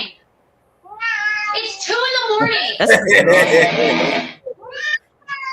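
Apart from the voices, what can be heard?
cat meowing in a played video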